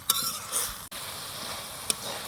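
Bottle gourd sauteing in spice masala for a fish curry, giving a soft, steady sizzle with a few brief spatula scrapes and clinks, fairly quiet and close.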